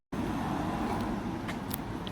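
Road traffic in Chichester, UK, with cars rumbling past close by in a continuous stream and a few brief higher clicks and squeaks, no voices.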